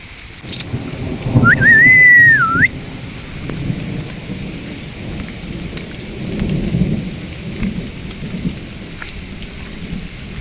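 Steady heavy rain pours down in the Konkan countryside with low thunder rumbling, and a brief whistle rises briefly near the start.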